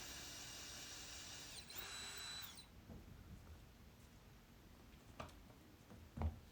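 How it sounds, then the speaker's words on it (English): A power drill whines for about two and a half seconds as it drives screws into Hardiebacker cement board on a bathroom floor, its pitch sliding partway through, followed by quiet with a few small clicks and knocks, faint overall. "Then you drill in the screws."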